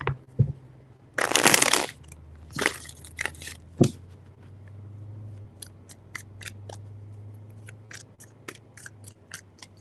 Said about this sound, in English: Three shuffles.